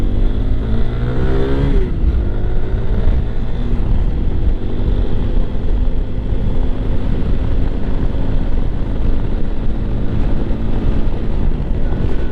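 A Lifan KPX 250 dual sport motorcycle runs steadily while being ridden, its engine drone continuous and fairly loud beneath heavy wind rush across the microphone, with a brief rising pitch sweep near the start.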